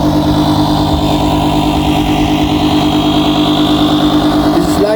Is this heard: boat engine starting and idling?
yes